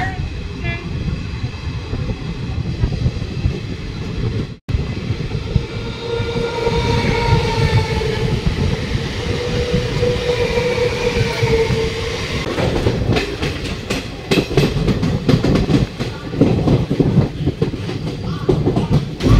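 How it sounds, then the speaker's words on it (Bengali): A passenger train rumbles steadily along the rails while changing tracks near Dum Dum, Kolkata, with a low, continuous roar and rhythmic clatter of wheels, loud and close as if heard from inside a chair-car carriage. "ট্রেনটি ধীরে ধীরে লাইন চেঞ্জ করছে।"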